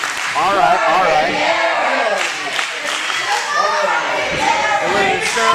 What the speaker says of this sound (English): And look at Surge acknowledging the crowd. They're cheering at him.